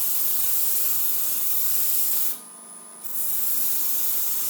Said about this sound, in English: I usually just chuck up a Jacob's chuck with a sanding disc